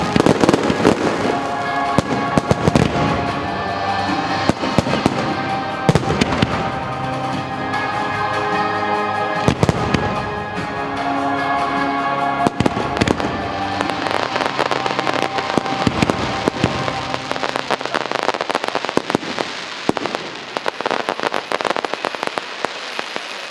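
A Christmas fireworks display sets off repeated loud bangs and crackling bursts throughout, irregular sharp explosions overlapping with fizzing debris, fairly close and dense with no clear speech.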